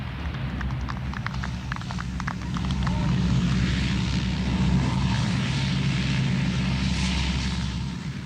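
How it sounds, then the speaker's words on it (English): An RAF Hercules turboprop transport landing on a bomb-cratered, debris-cleared runway, a steady droning engine rumble holding at moderate distance with a reporter's voice over it. "the first of the RAF Hercules lands between the bomb craters on a stretch of runway"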